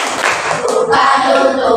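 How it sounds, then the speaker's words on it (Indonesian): Hands clap in a children's clapping game, a run of sharp, close claps in quick rhythm that sounds alone and loud. "Buka tutup, bertepuk tangan."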